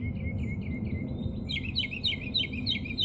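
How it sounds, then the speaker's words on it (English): Birds sing outdoors in a steady chorus of high chirps and trills over a low, continuous rumble of background noise, moderately loud and without talk. "And the birds are singing so beautifully."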